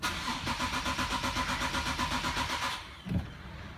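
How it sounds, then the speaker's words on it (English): Engine of a 2013 Infiniti G37 cranks repeatedly without catching: a loud, rhythmic starter whirr for almost three seconds, then a brief thump and it stops, leaving quiet. "Engine cranks but no start."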